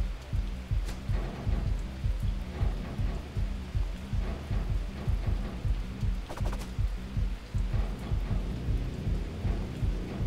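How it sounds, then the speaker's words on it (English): Loud, steady video game rain roars alongside a rapid low rhythmic thumping, continuous and close throughout, from the game David Get Keen. "tone down the rain intensity."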